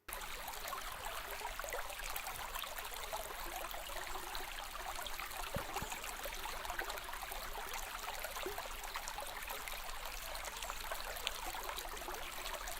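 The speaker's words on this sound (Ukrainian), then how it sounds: "А зараз послухайте голос води" Steady flowing water babbles and trickles continuously, an even close stream sound with no voices.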